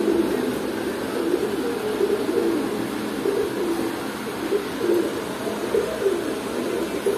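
Pigeons coo steadily in a pigeon shop at Kaptan Bazar, a continuous low cooing chorus from several birds close by, with no talk over it.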